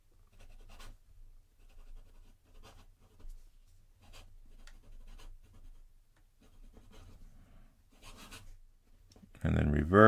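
A kid-friendly fountain pen scratching across paper in short, faint strokes with pauses between them, followed at the end by a louder burst of voice.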